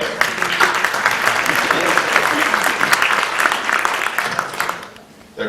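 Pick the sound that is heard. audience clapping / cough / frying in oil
audience clapping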